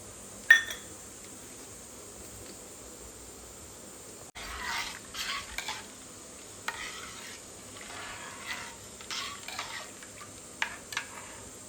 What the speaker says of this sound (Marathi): त्याच्यामध्ये मी हिंग घालून घेते अर्धा चमच आणि हे राईचे दाणे जरा खलबत्त्यामध्ये बारीक केलेले आहेत